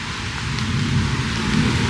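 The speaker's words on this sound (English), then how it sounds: "Alright, well, it's starting to rain." Steady rain falling outdoors at the start of a slow-moving storm, a continuous dense hiss with low rumbling underneath, fairly loud and unbroken throughout.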